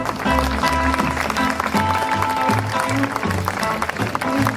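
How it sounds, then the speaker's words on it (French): An audience at a pinup vintage fashion show claps steadily and strongly, with music thumping underneath and some voices mixed in throughout. "on les applaudit très très très fort"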